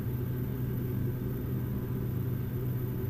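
Twin engines of a Cessna F406 drone in Flight Simulator X as a steady, low, close rumble with no breaks, the engines working hard and the prop RPM in the red.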